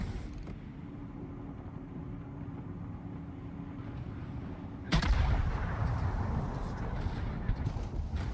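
Heavy warship gunfire in World of Warships: a steady low naval rumble, then one loud deep salvo boom with a long rolling tail.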